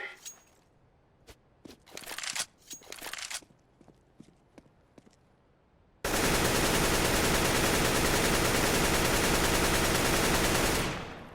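Gunfire in the video game CS:GO: several sharp shots spaced apart, then a sudden, continuous, very loud burst of rapid automatic fire that lasts about five seconds before cutting off.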